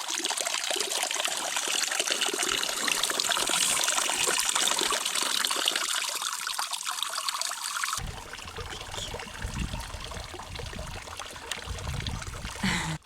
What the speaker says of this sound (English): We're headed to go fill up our water.